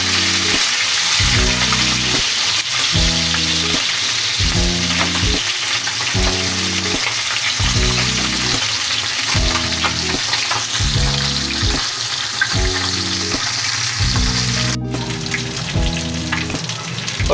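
Galunggong fish fries in a pan with a loud, dense, continuous sizzle and crackle, steady throughout with a rhythmic pattern of lower bubbling pops underneath.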